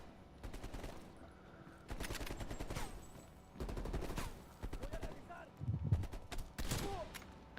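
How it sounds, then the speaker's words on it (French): Bursts of automatic gunfire ring out in the video game Call of Duty Black Ops, sounding as repeated rapid volleys with short gaps between them, heard alongside game voices. "Pitié, ils nous tirent dessus."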